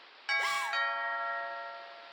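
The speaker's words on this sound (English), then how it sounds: "Ding dong." A doorbell chimes once in the video game What Remains of Edith Finch, a bright two-tone ding-dong that rings out loud and alone, then fades slowly into a sustained hum.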